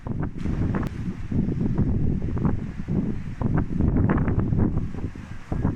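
Strong wind buffets the microphone in loud, gusty low rumbles that rise and fall continuously at a pine-wooded picnic area in Göndoğdu village, Bursa, with no speech.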